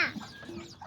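An older game rooster clucks in a single brief, close burst, with faint yard noise around it and no voices.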